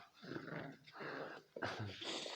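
Young dogs growl and snarl in close, loud, rumbling bursts, the throaty growls rising and pausing over a couple of seconds without any talking.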